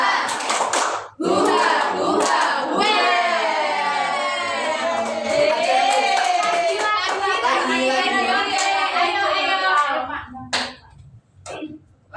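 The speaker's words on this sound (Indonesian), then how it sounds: "Tepuk semangat Velocity." A university class at a microteaching session chants the Velocity spirit clap together, loud group voices shouting in rhythm with hand claps, bracketed by sharp claps and ending in scattered claps.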